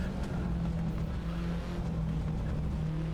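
Ford Sierra Cosworth RS500 engine in the Assetto Corsa racing game, a moderately quiet, rough engine drone with a steady low tone and slight revving fluctuations, no voices.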